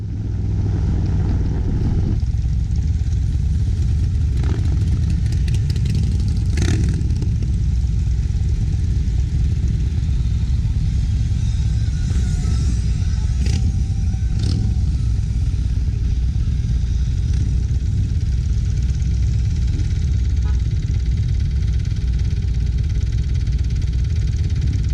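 Motorcycles roll into the small town of Jacumba Hot Springs, a loud, steady engine drone close to the microphone for the whole stretch with wind rush and no talking.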